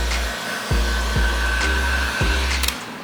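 A hot air gun blows steadily and loud to heat vinyl wrap over an inlay, its whine dipping and recovering several times as it is moved close to the surface.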